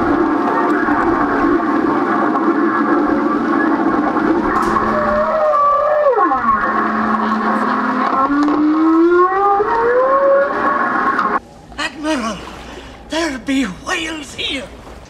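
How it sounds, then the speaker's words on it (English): Long, sliding humpback-region whale calls off Maui, picked up by an underwater microphone and played over a PA, rise and fall over a constant droning hum, then several shorter whoops and chirps follow as the hum drops away. "we're gonna be able to hear if they're making any whale songs"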